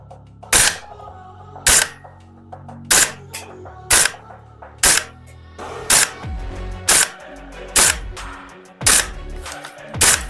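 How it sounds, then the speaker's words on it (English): An EMG Daniel Defense Mark 18 gas blowback airsoft rifle firing about a dozen loud, sharp single shots at a steady pace, each with a crisp mechanical clack from the cycling bolt, close up and with no talking. "now we're going to try and put some rounds on target for you"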